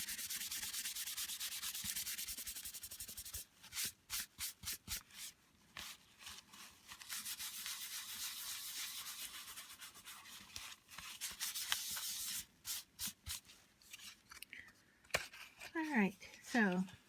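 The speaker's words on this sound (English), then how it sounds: "you can just take a dry tissue and just go over your surface to get the excess off" A dry tissue wiping excess mica powder off a card surface makes quick, close rubbing strokes in two short rhythmic bursts between quieter broad hiss, with a brief voice-like sound near the end.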